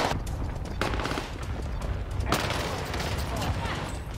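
Gunfire crackles in Call of Duty on Rebirth Island, a couple of sharp bursts and a steady dense rattle of shots under a talking voice.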